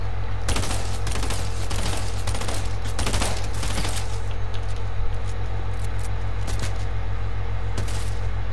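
Rapid bursts of gunfire in the Fortnite video game, with a green rapid-fire weapon, come in dense clusters of loud, close shots over steady game noise and no talk.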